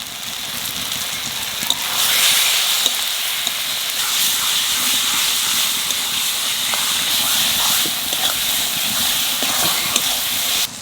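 Spice paste of cumin powder, Kashmiri chilli powder and a little sugar sautéing in a pan for potato-eggplant curry, a loud, steady hissing sizzle with faint ticks and pops running throughout.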